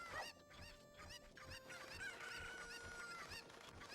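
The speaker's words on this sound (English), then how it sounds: "Please move, chicken." Cucco chickens in Ocarina of Time cluck and squawk in a busy cluster of short bird calls over a faint game tone, moderately quiet.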